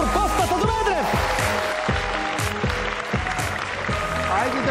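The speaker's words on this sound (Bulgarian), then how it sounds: "Силни аплодисменти" Applause from a live audience at a comedy show, steady clapping throughout with voices and a brief musical sting mixed in.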